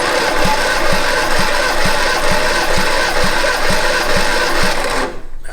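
Starter cranking an Austin-Healey Sprite engine during a compression test, a steady loud whirring with about ten regular compression pulses before it stops abruptly.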